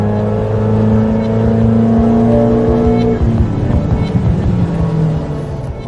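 A 1.6-litre turbocharged car engine running on 102 octane fuel revs hard on a dyno, a loud sustained drone climbing in pitch, then a rougher rumble as the revs drop, heard up close with no talk.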